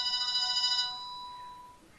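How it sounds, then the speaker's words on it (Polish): A telephone rings with a bright electronic ringtone, a steady tone for under a second that then fades into a thinner lingering tone and quiet room hiss. "Telefon zadzwonił."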